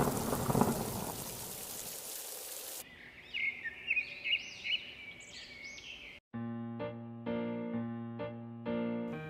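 In an animated Hindi Panchatantra story, steady rain hiss with a low thunder rumble for a few seconds, then chirping birds, then a bright melodic tune takes over.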